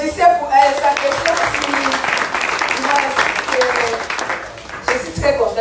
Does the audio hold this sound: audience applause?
yes